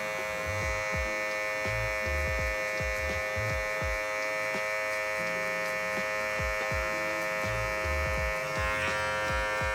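Electric hair clippers with the lever halfway open, cutting hair behind the ear during a comb-over fade, a close steady buzz with rhythmic strokes against the hair.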